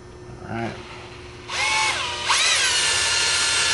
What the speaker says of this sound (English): with the thread lock on and the drill, I'm gonna go ahead and put this in just a little more